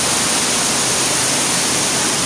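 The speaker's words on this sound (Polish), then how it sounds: "Tutaj można spojrzeć, jak się leje woda." Water pours down loudly in a flooded structure with a high water level, producing a dense, steady rushing roar that fills the whole moment with no break and no voices.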